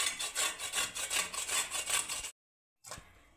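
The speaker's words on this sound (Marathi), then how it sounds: "आता एक किसणी घेऊन आपल्याला किसून घ्यायचे गाजर।" Carrots scraped across a hand grater in quick, rhythmic back-and-forth strokes, about a dozen rasping passes close by, then a brief silence before grating starts again.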